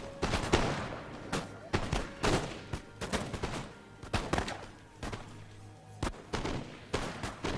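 Musket volleys crack out in the video game Empire: Total War, with repeated sharp bursts of massed gunfire, some close and loud and others scattered and more distant, across a rattling battlefield.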